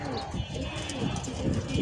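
Pigeons coo softly on a rooftop in rainy weather, low murmuring calls repeating under a steady background, with a person talking nearby.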